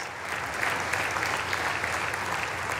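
Sustained applause from a large audience in the chamber of a joint session of Congress, with a steady dense wash of many clapping hands, moderately loud and continuous throughout, with no speech over it.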